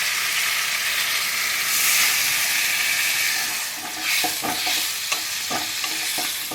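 Warm water poured into fried masala with a fish head in a pan for rui macher kata chorchori, giving a loud steamy hiss that settles into frying and a series of scraping stirs and clinks.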